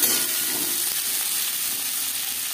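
Chopped onions, six medium ones, frying in hot mustard oil for a chicken curry, giving a steady, dense sizzle and crackle that stays close and constant throughout, with no talking.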